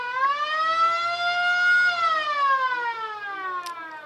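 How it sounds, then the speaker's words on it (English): A police car siren at a Santa Paula cruise night wails loudly and up close in one long rising-and-falling tone, heard alone with no talking. "put the siren on"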